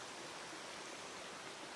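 A mountain stream rushes steadily just below a tent on the Appalachian Trail, a constant close wash of water with no breaks.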